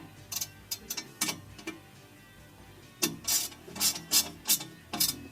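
A ratchet clicks in short bursts while tightening a nut on an exhaust bolt during an aFe stainless axle-back install on a 2017-2019 Fiat 124 Spider, close and crisp with a brief pause midway.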